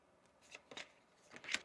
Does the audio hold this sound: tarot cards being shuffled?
yes